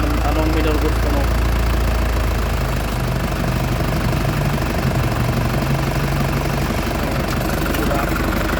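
An Isuzu Crosswind engine idles steadily and loudly up close, a continuous low rumble with no breaks, while someone talks over it during an idle adjustment.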